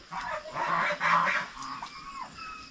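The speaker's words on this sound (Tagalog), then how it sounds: "pabo at saka pato yung nagsama-sama sa paglindig" On a farm, turkeys and ducks kept together give a cluster of nasal honking calls at close range, several overlapping cries in quick succession before fading into quieter background.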